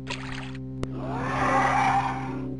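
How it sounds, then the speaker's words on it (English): Troll creature in The Elder Scrolls: Arena gives a drawn-out, rising and falling guttural groan after a short tick, loud and alone against a steady electronic hum. "Whatever noise that troll makes, it is seriously one of the scariest things I have ever heard."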